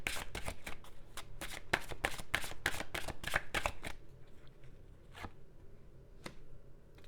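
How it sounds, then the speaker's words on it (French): Tarot cards riffle-shuffled in rapid, crisp bursts for about four seconds, followed by a couple of isolated card snaps, close and clear with no talk. "je vais tirer tout de suite les cartes du tarot"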